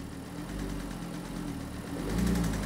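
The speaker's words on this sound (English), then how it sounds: "it's got a horrible tappy noise though" Audi RSQ3 engine idling and then given a light rev, a steady low engine rumble that rises briefly near the end, with a tappy rattle suggesting a mechanical fault.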